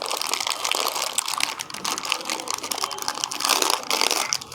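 Plastic packaging around an angle stop valve crinkles and rustles continuously as it is handled up close, a dense, steady crackle with no pauses and no speech.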